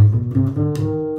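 A double bass is played fast with repeated first-finger shifts, producing a quick run of low bowed-or-plucked notes that slide and blur together, close and loud for just over a second with no voice.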